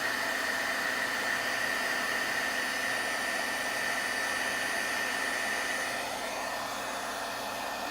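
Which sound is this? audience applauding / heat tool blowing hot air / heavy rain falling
heat tool blowing hot air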